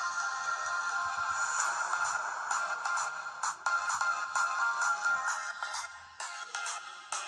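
A ringtone melody plays loudly from the rear speaker of an LG Stylo 3 Plus phone, bright and continuous with rhythmic accents, alone with no talking.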